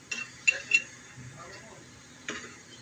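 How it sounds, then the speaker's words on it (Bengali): A lid is set over a pan of ilish paturi, with a few light metallic clinks and taps, close and brief, between stretches of a person speaking. "এখন এটাকে আমি ঢেকে দিচ্ছি।"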